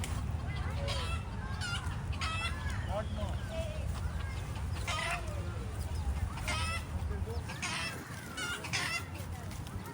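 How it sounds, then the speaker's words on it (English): Hens cluck repeatedly amid high chick peeping and scattered chirps, close by over a steady low background hum, in Fort Canning Park, Singapore. "We also found a cute family of hen with their baby chickens"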